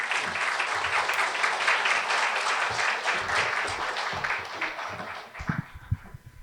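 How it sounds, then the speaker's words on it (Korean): Residents at a Yangjae 2-dong Moa Town community briefing in Seoul applauding as a committee chair takes the stage, a dense burst of clapping that fades near the end as a few handling knocks and thuds follow. "나오실 때 박수로 맞이하여 주십시오."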